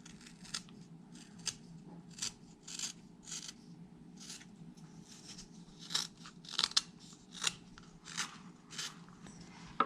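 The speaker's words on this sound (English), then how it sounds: "I'll turn it and I'll try a push cut instead." A knife makes repeated push cuts into wood while whittling a whale tail, giving a close series of short, crisp scraping and shaving strokes at an irregular pace, with no talk over them.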